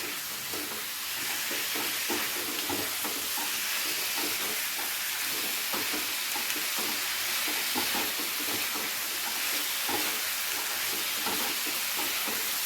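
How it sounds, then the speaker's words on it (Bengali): Ginger and garlic paste stir-fried with onions in hot oil for chili chicken, a steady loud sizzle with rhythmic scraping of a spatula against the pan throughout, no voices. "দশ থেকে 15 সেকেন্ড পেঁয়াজের সাথে ভালো করে একটু আদা আর রসুনটাকে নেড়ে নিতে হবে"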